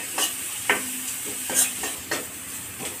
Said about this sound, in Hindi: देखिए अब ये धीरे धीरे फ्राई हो रहा है। जैसे चला चला के फ्राई करें